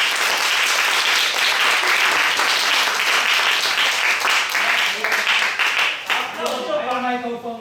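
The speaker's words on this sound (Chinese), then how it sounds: "所以我们先用热烈的掌声欢迎胡医师" A crowd applauds warmly to welcome a dentist to the stage, dense continuous clapping filling the room before it thins out and a voice begins speaking near the end.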